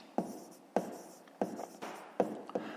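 A pen scratches out numbers on paper during a fifth-grade math exercise, four or five short quick strokes in a steady rhythm, close and quiet.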